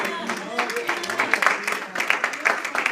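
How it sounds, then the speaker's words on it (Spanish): A church congregation claps for the Lord, a steady wash of hands clapping close by with voices mixed in, brief and lively. "¿Cuánto le dan un aplauso al Señor?"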